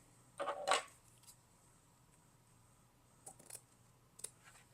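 Scissors snip through wide elastic in a quiet room, a quick pair of crisp cuts followed later by a few fainter clicks and snips.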